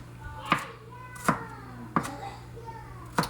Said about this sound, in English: Turn the pile and just chop it up some more.